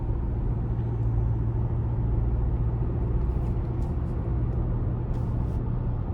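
Steady, loud low engine drone from a 2024 Toyota Tacoma SR5 with its 2.4-liter turbocharged four-cylinder, heard from inside the cab as it pulls, with continuous road rumble and no speech.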